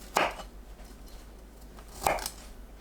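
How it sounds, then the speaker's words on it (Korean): A knife chopping washed broccoli into bite-size pieces on a board, with two separate soft cuts about two seconds apart and quiet room noise between them. "씻은 브로콜리를 한입 크기로 썰어주세요."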